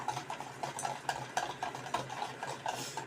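Cake batter stirred in a bowl, a spoon scraping and tapping in a fairly regular rhythm, close but faint, with no talking.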